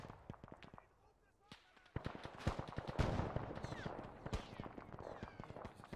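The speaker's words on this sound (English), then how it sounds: "there's so much machine gun fire on the road" Dense bursts of machine gun fire and scattered gunshots during a military simulation video game battle, a steady crackle of sharp transients that swells louder from about two seconds in, with voices talking underneath.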